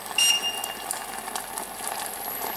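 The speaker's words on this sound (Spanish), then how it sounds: "Está muy fuerte el fuego, por eso salpica tanto." Cream for a pepper sauce sizzles and spatters in a pan over high heat, a steady crackling, bubbling hiss close by with a few sharp pops.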